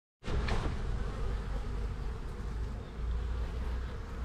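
A honeybee colony buzzes in a nucleus hive being moved into a full hive after winter, a dense, loud, continuous hum that starts abruptly and holds steady throughout, with no voices.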